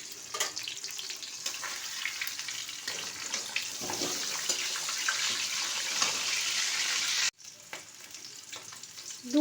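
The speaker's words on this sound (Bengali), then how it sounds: "এবারে মাছের মাথাগুলো ভালো করে ভেজে নেবেন।" Catla fish heads frying in mustard oil give a loud, steady crackling sizzle that runs continuously, cut by a brief dip near the end before resuming.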